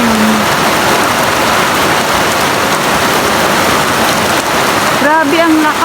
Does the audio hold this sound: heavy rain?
yes